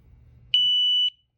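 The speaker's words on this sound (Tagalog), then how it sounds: "So ito yung tunog niya kapag ka a-alarm na siya." A single sustained electronic beep from a motorcycle disc brake lock anti-theft alarm, loud and steady for about half a second, ending abruptly, after a faint low rumble.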